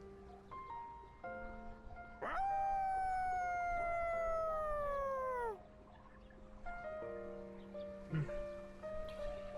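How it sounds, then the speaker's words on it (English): Koromaru, a dog in the video game Persona 3 Reload, lets out a long, loud howl that slides slowly downward in pitch over about three seconds, set between quieter tonal game sounds. "Koromaru's howl resounds throughout the quiet shrine"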